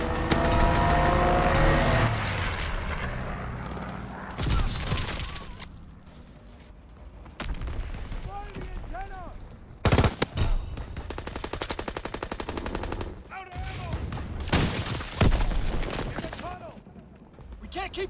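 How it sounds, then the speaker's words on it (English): Call of Duty WW2 match with a strafing run: bursts of rapid machine-gun fire and scattered gunshots crackle in loud clusters amid game chatter and radio-style voices, with quieter gaps between volleys. "Strafing run inbound!"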